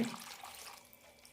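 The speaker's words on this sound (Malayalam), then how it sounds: "ഒരു കപ്പ് വെള്ളം ഒഴിക്കുന്നുണ്ട്" A brief rush of a cup of water splashing into a pot with chopped tomato, strongest at the start and tapering off quickly.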